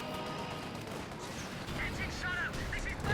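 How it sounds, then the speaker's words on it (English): Suppression gunfire in the World War II strategy game Company of Heroes 2, a steady rattle of distant automatic fire and explosions forming a dense battle bed, with a voice commentating over it. "Suppression fire once again."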